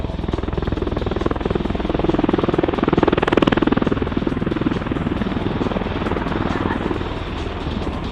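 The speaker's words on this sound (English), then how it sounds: "MV-22 Osprey just executing a vertical takeoff there." An MV-22 Osprey tilt-rotor aircraft lifting off vertically at the 2016 Oregon airshow, its heavy rotor thump and turbine roar pulsing steadily and swelling slightly near the middle, with a public-address announcer talking over it.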